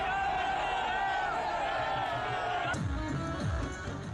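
A crowd welcomes Acharya Dhirendra Shastri at Bageshwar Dham in Chhatarpur with drums and garlands: dense, steady crowd noise and music, ending in a sharp cut to lower rumbling sounds.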